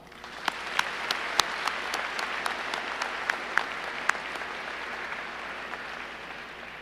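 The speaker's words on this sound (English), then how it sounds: "please take a moment to show your appreciation for all of their support by giving them a round of applause" Graduation crowd applause at a high school ceremony, a steady wash of clapping with scattered louder individual claps standing out, moderately distant and continuous throughout.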